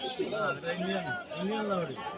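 Lahori pigeons at a busy bird market give low, rounded coos in a steady run of repeated calls, close and clear, with people talking in the background.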